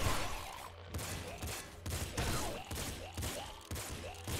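An auto shotgun fires in Nuclear Throne in a rapid series of about eight heavy blasts, each a sharp burst, over a faint game soundtrack.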